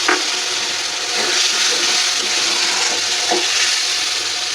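Chili and turmeric masala paste sizzling in hot oil with a splash of water, a steady loud hiss and bubbling crackle with faint stirring clicks throughout.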